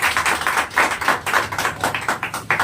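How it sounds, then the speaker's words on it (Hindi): A crowd claps loudly for RCM Business colleagues at a seminar, a dense, steady burst of many hands with rhythmic swells, no talk over it. "एक बार जोरदार तालियां हमारे इन साथियों के लिए"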